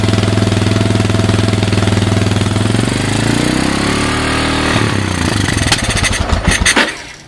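A 2001 Kawasaki Lakota ATV engine runs on a hacked PZ27 carburetor with choke, a loud steady idle whose pitch wavers up and down before it sputters, stumbles and dies away near the end.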